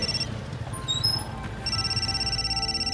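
Electronic ringing of a telephone, heard as a high-pitched repeating ring in short bursts with a pause in the middle over a low background hum, and no speech.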